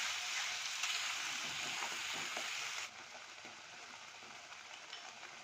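Prawns sizzle and fry steadily with a mustard, poppy seed and coconut paste, a dense crackling hiss that runs loud and unbroken for several seconds, dropping slightly softer partway through as the pan is stirred.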